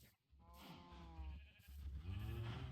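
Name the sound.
sheep bleating in Minecraft video game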